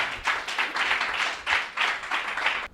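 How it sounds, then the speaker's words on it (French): Audience applause greeting an honoured colonel at a tribute to the Beninese army: dense, steady clapping from a crowd, continuous and fairly loud, swelling in waves before stopping abruptly at the end. "Sous vos applaudissements,"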